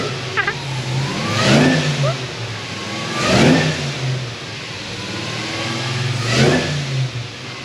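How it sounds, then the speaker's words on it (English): A supercharged LSA V8 drift car running on E85 revs in repeated bursts, climbing and dropping about three times, loud and close, with background chatter. "He's actually able to rev it and actually hear itself go."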